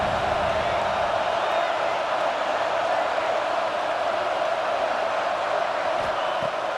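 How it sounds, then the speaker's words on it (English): Home crowd noise from EA Sports College Football 26 fills the stadium as a constant, loud roar of cheering and whoops, evenly sustained throughout without pauses or distinct voices standing out. "Man, this crowd really affecting the football game."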